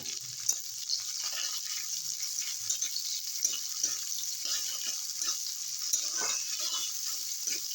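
Onion, garlic and ginger fry in a pan for a Chinese-style dish, giving a steady close hiss and sizzle with light stirring and scraping knocks throughout.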